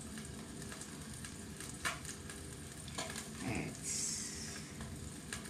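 Garlic spice sauce poured over fish frying in a pan gives a quiet, steady sizzle with a few faint clinks and stirring sounds, and a voice briefly speaks over it.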